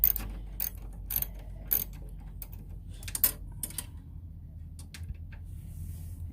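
A ratchet wrench loosens the four bolts holding a van's factory seat onto its swivel base, making sharp metallic clicks in irregular bursts, close by and fairly loud, with quiet gaps between the turns.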